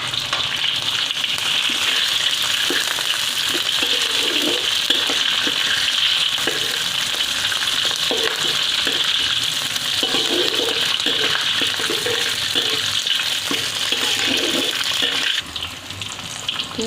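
Dried chillies and curry leaves sizzle and crackle steadily in hot oil in a pan, a loud continuous frying hiss with occasional stirring scrapes, no voices.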